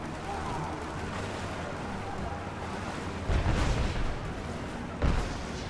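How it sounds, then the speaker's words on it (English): Gunfire in Rise of the Tomb Raider, a couple of heavy booming shots over a constant roaring rumble of wind and surf, fairly loud. "Oh, people are being shot."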